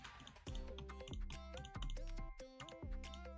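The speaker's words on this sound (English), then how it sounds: "It picks up my like keyboard clicking." Keys click on a computer keyboard during a livestream, a quiet, uneven run of taps with short pauses between bursts, heard close and without any talking.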